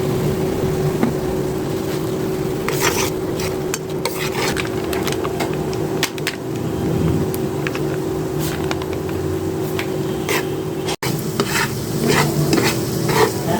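Spices with chili powder and turmeric stir-fried in a pan for a shrimp and bitter gourd curry: steady close scraping and stirring over a continuous sizzle, with no talking.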